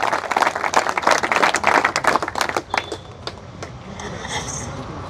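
A crowd at a political speech in Nizamabad claps in sharp, uneven bursts of individual hand strikes that are loud at first, then thin out and fade into quieter background noise.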